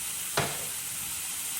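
Mushroom stems sizzle steadily in a hot pan, a continuous frying hiss with a brief stir or scrape just under half a second in, close and clear with no talking.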